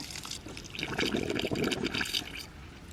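Water draining with sputtering air from a ram pump line, a continuous gurgling, splashing flow close by that swells and bubbles unevenly.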